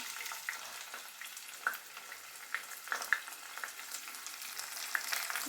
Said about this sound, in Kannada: ಈರುಳ್ಳಿ, ಟೊಮೆಟೊ, ಬೆಳ್ಳುಳ್ಳಿನ ಫ್ರೈ ಮಾಡ್ಕೊತಾ ಇದ್ದೀನಿ